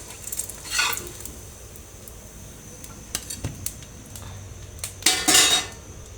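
Breakfast snacks go into a pan to fry, with scattered clinks and scrapes of utensils against cookware, a faint sizzle underneath and a louder burst of clatter near the end.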